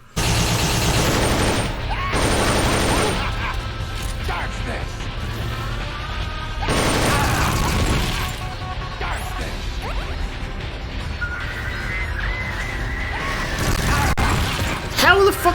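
Missile explosions from the Metal Gear Solid: Portable Ops boss fight, several loud crashing bursts and rumbling blasts spread over about fifteen seconds, mixed with other game noise and occasional speech.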